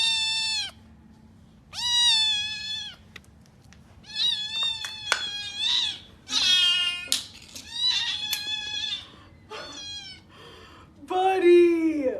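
A kitten meows over and over, high-pitched and close, in a series of drawn-out cries separated by short pauses, with one louder, rising wail at the end.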